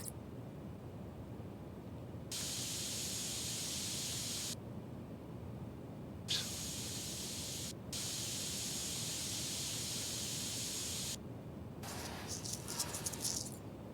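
Spray paint hisses in repeated bursts of a few seconds each, steady and broad, with short pauses between them, from the spray tool in the PC Building Simulator 2 video game while it colours PC parts.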